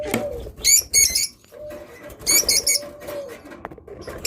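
Pigeons kept as a pair for sale give soft low coos, with two bursts of wing flapping and short chirps between them, close by and without speech.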